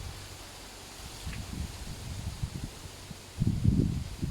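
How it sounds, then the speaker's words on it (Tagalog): Wind gusts rumble against the microphone by the Bolo River in the Philippines, with rustling leaves, growing stronger toward the end. "Lakas ng hangin."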